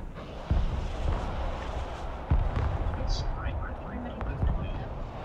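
Artillery shells strike the ground in the real-time strategy game Broken Arrow, landing as three heavy, muffled booms spaced about two seconds apart over a continuous rumbling battlefield din.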